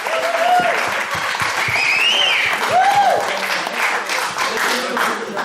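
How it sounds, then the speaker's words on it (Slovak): A studio audience on a Slovak live talk show, Keď hviezdy popíjajú, claps steadily to welcome a guest named Rudolf, the dense applause running throughout at an even level, with whistle-like tones and a voice or two rising over it. "Áno, vítame ho, všetci potleskom."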